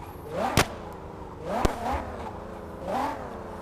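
Taxi engine in the video game Car Parking, revving up in three short rising surges, each joined by a sharp click, at moderate loudness with no talk.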